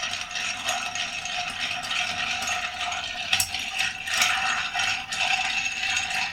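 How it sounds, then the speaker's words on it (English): A spoon stirs an old-fashioned cocktail in a glass full of ice, a steady close rattle and clink of cubes that runs the whole time, with a few sharper knocks near the middle. "Let's get a different spoon and let's give it a good stir."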